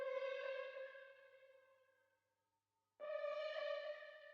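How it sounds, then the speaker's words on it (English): A bright synth lead used as an accent in a trap-style beat, processed with reverb, EQ and a very fast 1/64 delay; two sustained harmonic notes, the first fading into a short gap before the second enters clean and loud. "I used this lead sound as like an accent just to fit in with that overall synth type sound"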